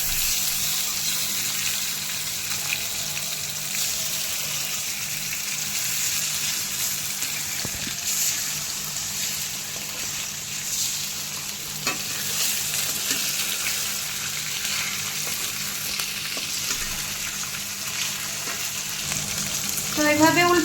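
Pieces of sea coral fish fry in a pan, a steady close broadband sizzle running throughout with faint stirring and scraping, a few brief clinks, and a brighter burst of sizzle near the end as pieces are turned.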